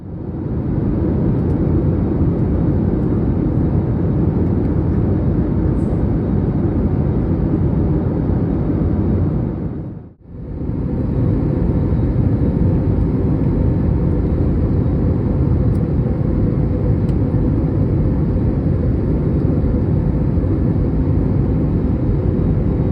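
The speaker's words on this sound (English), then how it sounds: "here we are, Heathrow, Terminal 4, ready to go to Amsterdam" Steady, loud broadband roar of aircraft at Heathrow Airport Terminal 4, with a brief drop to near silence partway through before the continuous rumble resumes.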